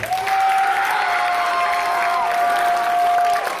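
A hypnotist show audience breaks into a round of applause, dense clapping with some cheering that holds steady and fairly close for several seconds, a sustained musical tone running underneath.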